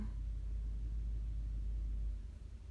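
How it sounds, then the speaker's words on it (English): A truck pulls up outside a house, heard as a low, muffled engine rumble that holds steady and then fades and drops off near the end. "I hear Joe's truck pulling up."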